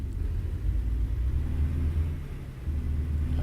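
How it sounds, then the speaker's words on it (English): A heavy American semi-truck engine, a Peterbilt 389 or Kenworth T680 type, rumbles in a steady, loud, low drone, running continuously in a trucking simulator game with no voices. "it looks like we're using a Peterbilt 389, or maybe a Kenworth T680 sound for this particular truck"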